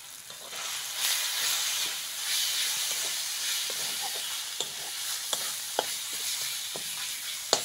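Turmeric and chili powder spices sizzle steadily in a hot pan for a South Indian fish curry, a continuous close hiss with scattered sharp pops and stirring scrapes, no voices.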